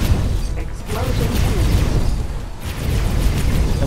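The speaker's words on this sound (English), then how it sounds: "Explosion." A rumbling explosion in the space game X4: Foundations roars continuously with dense low booms and crackle, loud and close throughout.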